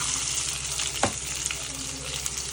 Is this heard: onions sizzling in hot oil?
yes